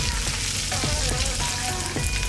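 Chilies with Bengal gram, black gram and Kashmiri red chili frying in hot oil in a pan, a dense continuous sizzle with faint scraping taps as the mixture is stirred.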